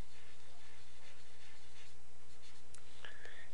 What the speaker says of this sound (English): Draw a circle for the head.